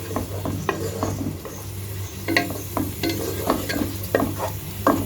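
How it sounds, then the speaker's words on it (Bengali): Spice mix for a Bengali rui fish curry stirred and fried in oil, a spatula scraping the pan in repeated strokes over a steady close sizzle. "এই মশলাটা আমি এখানে দিয়ে দিচ্ছি। দিয়ে এখন একটু নাড়াচাড়া করে নেব ভালো করে"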